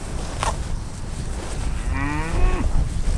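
A cow lets out a single drawn-out moo, clear and fairly close, rising then falling in pitch over about a second against a low background rumble, with no speech.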